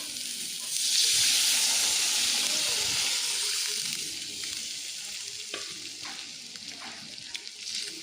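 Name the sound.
water added to hot masala sizzling for pomfret curry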